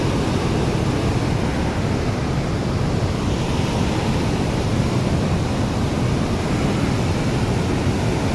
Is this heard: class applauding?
no